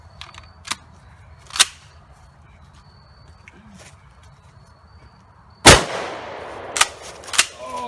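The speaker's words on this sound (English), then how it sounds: "for the last one, we're going to shoot the other expensive lithium-ion battery" A shotgun blast fired at an expensive lithium-ion battery: one sharp, loud report near the middle, followed by a burst of crackling noise and a few more sharp pops, with several fainter clicks and snaps before it.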